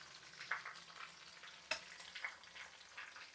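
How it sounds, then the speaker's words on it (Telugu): Green chillies frying in hot peanut oil give a faint, steady sizzle with a few soft crackles and pops, one sharp spit standing out, heard close with no talking. "అదిగోండి పచ్చిమిర్చి వేగుతున్నాయి"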